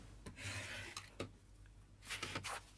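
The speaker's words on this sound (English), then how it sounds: "I will trim off the extra fabric." Scissors trimming extra fabric off a sewn pocket, heard as a few short close rasping snips and rubs with quiet gaps between, no talking.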